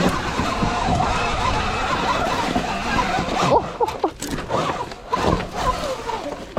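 A SurRon electric dirt bike climbs a rocky hill on aggressive knobby tires, with loud rushing motor whine, crunching gravel and tire scrabble that turns choppy and uneven near the end.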